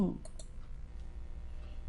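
Two quick, quiet computer mouse clicks land close together near the start while someone navigates a university website, followed by low room hiss.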